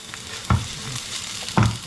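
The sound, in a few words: onion being sautéed in hot oil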